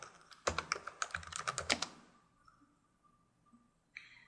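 Quick bursts of keystrokes on a computer keyboard, close and fairly quiet, in a rapid run of about a dozen taps, then a pause and a faint final click.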